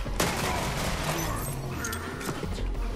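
Rapid revolver gunfire from Borderlands 3, a dense burst of sharp, loud shots one after another that fills the whole stretch with little pause.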